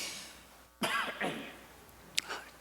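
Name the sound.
coughing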